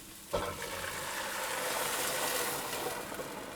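Red wine is poured into a hot cooking pot for a cottage pie filling, starting with a sudden splash and settling into a steady, soft sizzling hiss.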